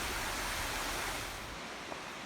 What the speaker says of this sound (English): Here, you'll find a small waterfall that'll give you a preview of the kind of beauty you're going to be seeing.